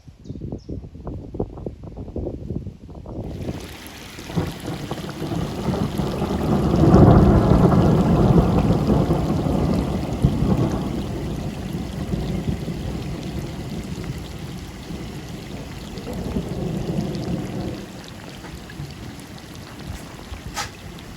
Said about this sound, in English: This thunderstorm rumbled on for a good couple of hours